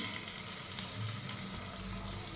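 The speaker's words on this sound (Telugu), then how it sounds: "ఇది మంచిగా ఫ్రై చేసుకోవాలి" Onions with ginger paste frying for chicken biryani, a close, steady sizzle with soft crackle and faint stirring, constant from start to end without any talking.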